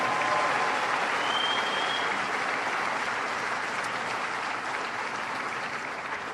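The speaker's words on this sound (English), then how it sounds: "So please give our young people a big round of applause." A conference crowd at the Tribal Nations Conference gives young people a big round of applause, a thick, steady wash of clapping that holds at full strength and only slightly eases toward the end.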